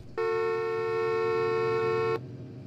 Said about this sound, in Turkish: Bak hemen kornaya basacak.